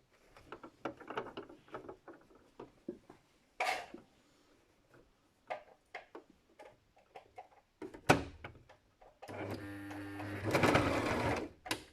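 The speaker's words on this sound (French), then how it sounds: "Coudre au point droit pour fixer ces plis de haut en bas du masque." A sewing machine straight-stitches the pleats of a fabric face mask, with quick bursts of close mechanical ticking and clacking broken by pauses, then a longer steady loud run of stitching near the end.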